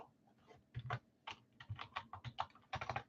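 Fast computer keyboard typing in uneven bursts of close, crisp keystrokes, with short pauses between flurries and no voices.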